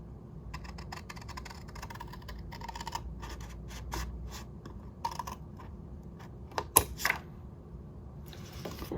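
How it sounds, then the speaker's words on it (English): Scissors snip through paper card while cutting a pop-up cube gift box along a score line, giving faint, quiet crisp clicks and scratchy cuts in short irregular bursts. "then I'm going to cut this part off"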